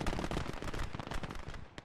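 Rapid gunfire from an MG42 machine gun in the WWII video game Gates of Hell: Ostfront, a dense, continuous burst of closely spaced shots that stays loud and steady for about two seconds.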